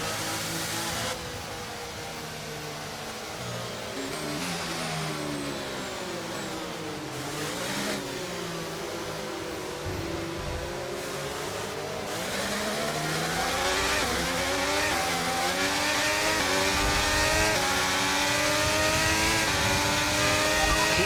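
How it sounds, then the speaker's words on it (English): F1 race cars accelerating at a safety car restart in the video game F1 23 at Suzuka Circuit, high engine whines sweeping up and down through gear changes, loud and continuous, rising toward the end. "When the field accelerates, remember there's no overtaking until the timing line."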